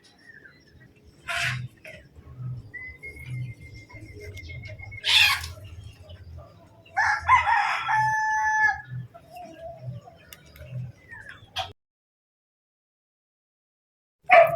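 Roosters on a rural Filipino homestead crow several times over the course of the clip, the loud calls separated by quieter stretches with soft rhythmic background sounds and some faint chicken noises, ending briefly in near silence.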